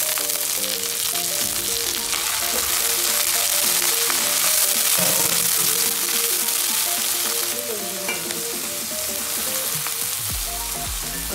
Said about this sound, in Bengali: পেঁয়াজ রসুন হালকা ভাজা হয়ে গেলে আমি চিংড়ি মাছগুলো ভেজে দেব।